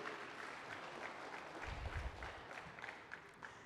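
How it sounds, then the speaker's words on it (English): A crowd at the inaugural session of the Windergy India 2024 wind-energy conference claps for a few seconds, a soft, continuous wash of hands heard from a distance and recorded at low level, with a few louder claps near the end. "a round of applause for Tamil Nadu"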